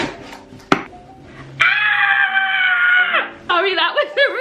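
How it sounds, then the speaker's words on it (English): A woman at home lets out a loud, excited scream lasting over a second after a sharp knock, followed by rising, wavering high-pitched vocal squeals. "Sorry, that was a really ugly scream"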